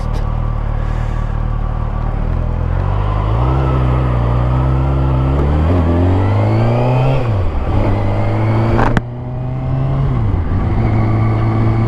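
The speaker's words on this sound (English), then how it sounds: "I am test riding a ZX-6R 636" A 2014 Kawasaki ZX-6R 636 supersport motorcycle engine is ridden and revved close up, its pitch climbing and falling through gear changes, with a short break in the drone near the end before it picks back up.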